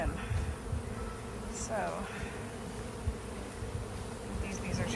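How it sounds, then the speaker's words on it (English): A steady, dense buzz of many honey bees swarming close around a hive during robbing, with a brief word spoken partway through. "See bees like trying to get in weird places."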